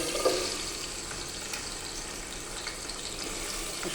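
Pre-chopped onions frying in hot oil for a chicken and potato curry, a steady soft sizzle that stays even throughout, close and moderately quiet, with no voices.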